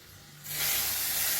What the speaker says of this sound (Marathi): आता ही फोडणी गरम गरम ह्याच्यावर ओतायची